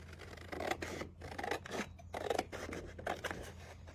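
Scissors snip through paper for a red polka-dot Americana decoration, a run of close, crisp cuts in an uneven rhythm with short pauses between strokes and no voices.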